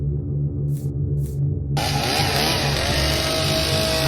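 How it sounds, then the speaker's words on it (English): A chainsaw flares up in a horror video game, two short revs giving way to a loud, sustained rasping engine roar with a harsh buzzing tone that holds steady to the end, nothing else heard. "The chainsaw flares up once more, revealing to everything and everyone around it our location"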